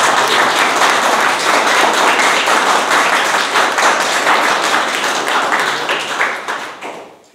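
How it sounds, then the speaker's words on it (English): An online meeting audience claps for speeches: dense, loud applause of many hands rattling steadily for several seconds before tapering off to silence. "Let's clap for each one of them."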